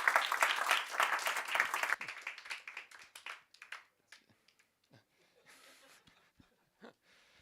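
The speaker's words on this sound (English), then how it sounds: "let's give another round of applause and thank Matt for coming up." A crowd at a Nerd Nite Tokyo talk on wrestling gives a round of applause, dense and loud at first, then thinning into scattered claps and fading to a few faint taps.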